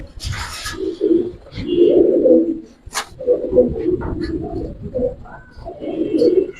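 Giribaz pigeons, silver khaki and army types with cumin-speckled necks, coo repeatedly at close range in soft, throaty rolling phrases with brief pauses, alongside faint background noises.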